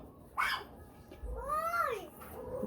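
A cat meows and caterwauls after a fight with a larger cat: a short sharp cry, then a longer wavering yowl, both fairly faint over quiet background noise.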